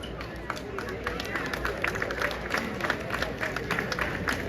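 A crowd at a Trinidad All Stars steel orchestra award ceremony claps steadily, a dense wash of applause and crowd noise that holds throughout at a moderate, even level.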